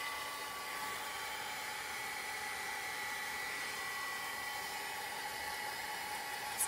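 A hair dryer blows steadily to dry chalk paste on a DIY Easter and spring tiered tray craft, a continuous close, loud whooshing hiss that holds evenly from start to finish.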